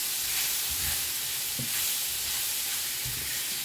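Smoked turkey sausage sautéing in a pan for yaka mein soup, a steady broad sizzle and hiss throughout with a few soft stirring knocks, close and continuous with no talk.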